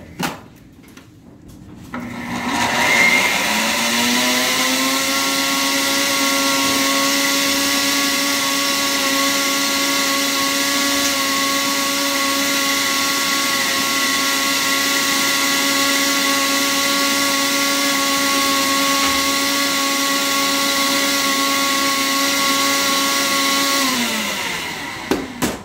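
A grinder whirs steadily for about twenty seconds as it grinds kava root into a homogenized sample. It spins up quickly, holds a loud, even motor hum with no talk, then winds down at the end.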